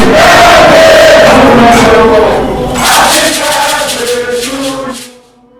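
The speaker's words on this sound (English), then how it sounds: "A round of applause to Mr. President." At Jubilee House, a crowd welcoming the Black Stars football team to Ghana's president roars with loud cheering and shouts that hold strong, then fade away near the end.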